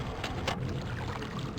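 Water in the Myst game's Selenitic age, a soft continuous rushing and lapping like waves against a boat, steady and moderately quiet with no speech.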